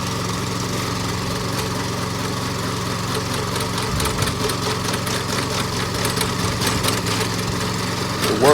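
A hole-digging machine engine runs steadily at a constant idle-like drone for fence installation at a townhome subdivision, loud and continuous with slight surges toward the end, no talking.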